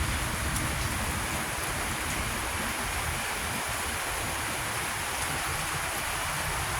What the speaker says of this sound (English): Hopefully y'all will be able to hear me over the rain.